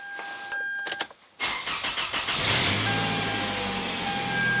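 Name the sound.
car engine starting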